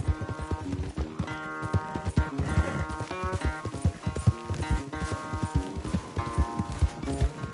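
Horse hooves gallop in a steady, rapid clip-clop rhythm during a race in Red Dead Redemption 2, loud and close, with tonal game music running underneath throughout.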